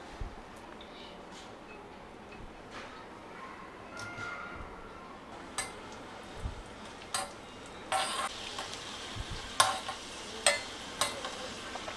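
Raisins frying in a pan for jaggery thalikalu, a soft continuous sizzle with scattered stirring clicks and taps that grow sharper and more frequent toward the end.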